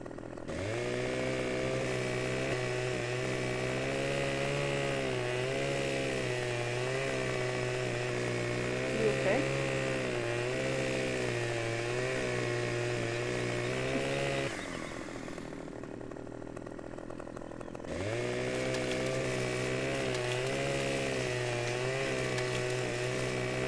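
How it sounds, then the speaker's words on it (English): A chainsaw running during logging in wetlands, a loud, steady engine drone close by that cuts out briefly partway through and then resumes, with a voice talking over it. "And it's really slow walking with the chainsaw."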